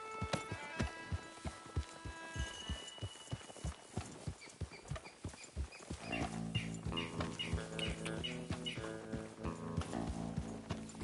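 Rapid clip-clop of galloping horse hooves in Red Dead Redemption 2 on PS4 in a steady rhythm, joined halfway by busier music and game sounds, loud and close throughout.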